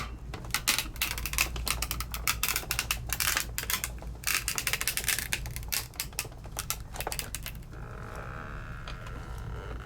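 A Sizzix die-cutting machine feeds a die and crease pad through its rollers on specialty paper, making a dense run of rapid clicking, cracking and ratcheting close by for most of the stretch before settling into a softer mechanical hum near the end.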